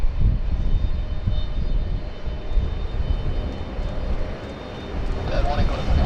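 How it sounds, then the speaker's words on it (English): American Airlines Dreamliner departing Sydney Airport for Los Angeles, a low, rumbling jet roar heard at a distance beneath ongoing talk, swelling slightly toward the end. "we have the American 72 Dreamliner service heading back to Los Angeles"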